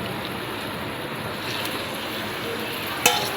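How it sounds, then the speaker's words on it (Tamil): Liver sautés in a pan with onion and tomato, giving a soft, steady sizzling hiss at low volume, broken by one brief metallic clink near the end. "இதை நல்லா வதக்கிக்கலாம். இது நல்லா கொஞ்சம் வதங்கட்டும்."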